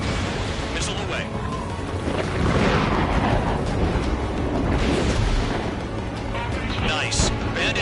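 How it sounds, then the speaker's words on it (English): Missile launch and impact in Ace Combat 7, a rushing roar swelling into booming blasts over steady jet engine noise, with radio voices talking over it. "Missile away."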